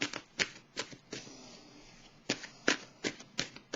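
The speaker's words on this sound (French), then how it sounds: "Je vais piger une carte de mon oracle de l'âme intuitive pour le signe du Verseau." Oracle cards are shuffled and drawn, sharp close snaps and slaps in quick clusters around a softer rustling riffle, with no talking.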